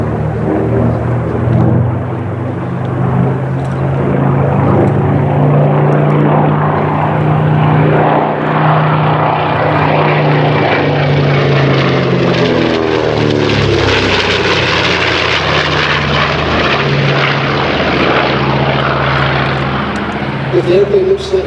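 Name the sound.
World War II propeller airplane flying in an air display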